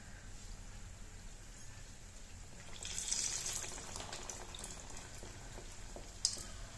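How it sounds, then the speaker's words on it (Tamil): Beetroot athirasam dough fries in hot oil, giving a soft, continuous bubbling sizzle that swells briefly midway, heard faint and close with no talking. "எண்ணெயில் வந்து இதை பொறிச்சு எடுத்துக்கலாம்"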